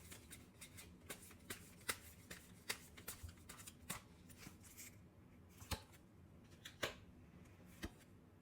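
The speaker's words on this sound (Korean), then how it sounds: "여러분과 그 사람의 관계에 조언 카드 한번 뽑아보도록 할게요" Tarot cards being shuffled and drawn, soft close riffling with sharp card snaps and taps at irregular intervals, quiet and without talk.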